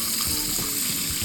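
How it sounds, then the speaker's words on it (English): Tap water running steadily into a sink as sea moss is rinsed under it, a continuous close splashing hiss with no talk. "what we're going to do now is go ahead and rinse it. We're going to rinse this on off really well."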